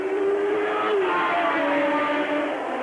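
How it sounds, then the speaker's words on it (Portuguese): Engine of a Formula 1 race car at the 1982 San Marino Grand Prix, a steady high-pitched roar with shifting tones that holds loud and continuous throughout, with no voices. "Você ouviu aí o ronco do motor do terceiro colocado, Michele Alboreto"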